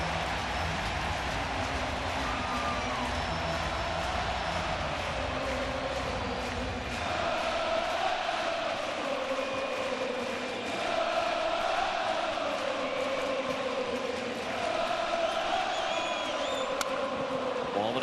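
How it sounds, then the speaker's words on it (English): Crowd noise at a Mets vs Phillies NLDS playoff baseball game in Philadelphia, a loud, sustained roar of cheering fans that swells and stays steady throughout, with a broadcaster's voice talking over it. "it makes this crowd go crazy again"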